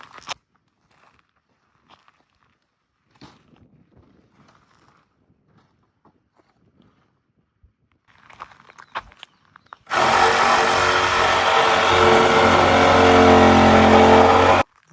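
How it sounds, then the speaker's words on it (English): A power saw making a couple of miter cuts in pallet and discounted wood on an off-grid homestead, a loud continuous whine of about five seconds that follows quiet handling and faint noises. "I have to do a couple miter cuts."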